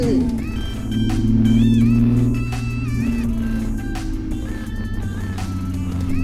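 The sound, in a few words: Infiniti G37/G35 engine idling after Seafoam treatment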